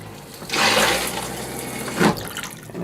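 A travel trailer toilet flushes nearby: a brief rushing swirl of water starting abruptly, then a second short gush before it tapers off, with no talk.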